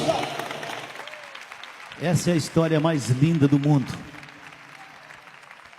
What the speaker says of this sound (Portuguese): Podem louvar a Deus com as palmas, meus irmãos.